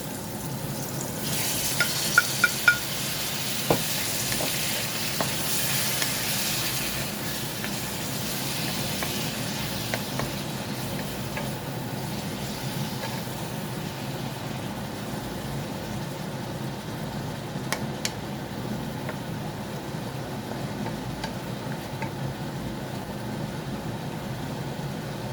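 Beef sizzles and fries in a pan while being stirred, a steady hiss of cooking with occasional clinks and scraping, continuous and moderately close.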